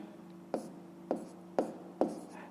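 Four quick pen strokes on paper, spaced about half a second apart, each a short scratchy tap, close and quiet in a still room during a fifth-grade maths exercise.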